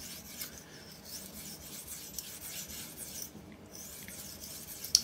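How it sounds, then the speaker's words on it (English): A knife blade is scrubbed back and forth on a coarse sharpening stone, a faint, steady abrasive rasping with soft repeated strokes and no talking. "So I'm just going to scrub on the stone"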